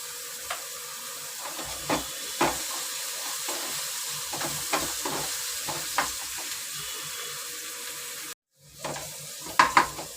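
Masala and onion with a pinch of asafoetida sizzling steadily in a pan while paneer and capsicum curry is cooked, with scattered clinks and stirring scrapes, a brief dropout near the end, then louder sharp clatter.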